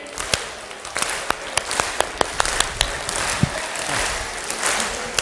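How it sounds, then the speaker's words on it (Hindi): An audience at a health talk breaks into scattered clapping that builds into fuller applause, with a few sharp individual claps standing out near the start before the sound settles into a steady patter. "सभी ताली बजाइए।"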